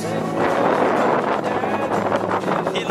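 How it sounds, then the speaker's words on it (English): Strong wind at Great Sand Dunes National Park roars and buffets against the microphone in a dense, loud, continuous rush with gusty surges. "It's so windy."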